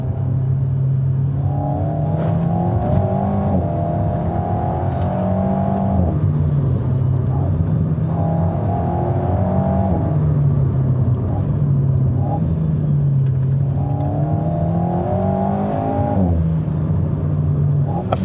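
An Alpine A110 sports car's engine revs up and drops back in repeated waves, with booming blips on each gear change, heard from inside the cabin over steady road noise while someone talks.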